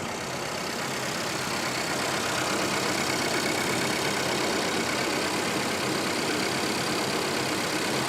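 A police auction car, a Charger or Explorer, idles steadily close by, an even engine drone with a faint rhythmic knock and no change in pitch across the clip.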